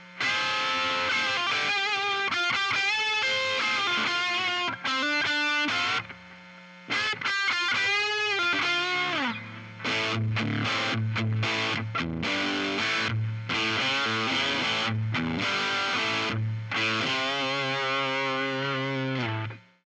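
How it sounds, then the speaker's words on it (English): Overdriven P90 electric guitar through a BK10 amp with boost and drive both on plays loud, continuous riffs and chords, thick and saturated, with one brief dip partway through. "now both the boost and drive on"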